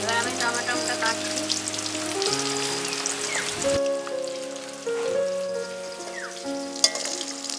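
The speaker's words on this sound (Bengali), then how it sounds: "মাছগুলো ভাজা হয়ে গেছে, এবার আমি তুলে নেব।" Pangas fish frying in oil: a continuous crackling sizzle close by, heard beneath a tonal melodic background throughout, with no voices.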